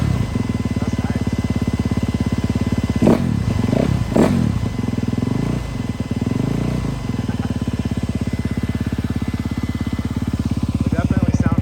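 A Honda CRF250 motorcycle engine fitted with a Straight Shooter exhaust idles close by with a steady, throbbing rumble; a brief burst of voices breaks in partway through before the engine carries on alone.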